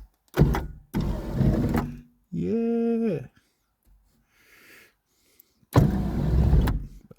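The electric sunroof on a rusty Volkswagen Corrado 16v runs for about a second with a rough, strained motor whine, between louder car door and handling thumps. A brief spoken word is heard nearby.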